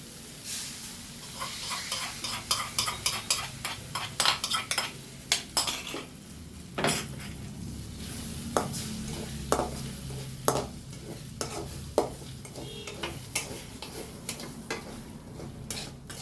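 Beaten egg mixture with a little salt goes into a hot pan over low flame, followed by a long run of sharp, irregular scraping and clinking from a utensil against the pan over a steady soft sizzle, no voices.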